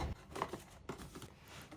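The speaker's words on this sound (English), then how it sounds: "I'm just going to take my scissors and cut that open." Scissors cut through tape to open a shipping box for boxing-style gloves, giving a few close, quiet snips and rustles in quick succession.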